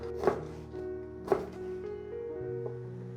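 Knife dicing tomatoes into small cubes on a cutting board, two distinct sharp chops about a second apart followed by a softer tap, near and fairly quiet over faint background music.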